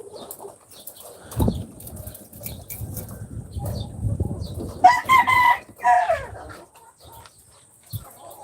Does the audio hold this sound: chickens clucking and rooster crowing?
yes